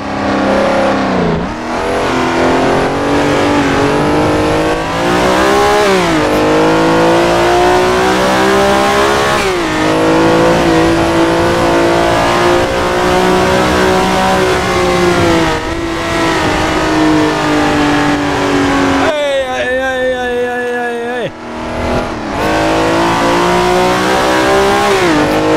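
An old car's engine in Assetto Corsa revs hard and continuously, its pitch rising and falling through gear changes, loud and close throughout, with a brief dip and shift at one point before climbing again.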